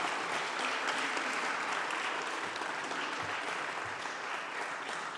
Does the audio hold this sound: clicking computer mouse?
no